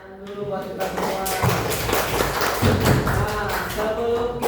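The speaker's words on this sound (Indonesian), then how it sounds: "Tepuk tangan dulu buat kita semua." A class of students gives a round of hand clapping indoors, a dense, steady patter of claps mixed with voices that continues for several seconds.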